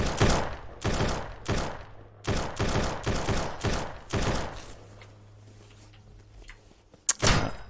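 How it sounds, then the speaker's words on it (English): Bullet impacts strike a vehicle in the zombie survival game Surroundead: a series of sharp, loud metallic hits in quick bursts, a quieter lull with low hum, then one last sharp crack near the end. "That's a nice sound effect of that bullet impacting the vehicle behind me."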